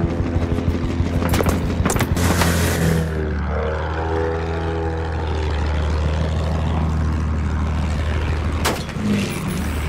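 An enemy propeller plane in the World War I shooter Battlefield 1 drones loudly and steadily throughout, with harmonic engine tones, some sharp bursts early on and a rising pass near the middle.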